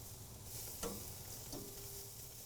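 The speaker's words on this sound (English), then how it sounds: "sizzle" Mushrooms and food sizzle steadily on a hot grill, a soft continuous hiss with a couple of brief clicks and scrapes.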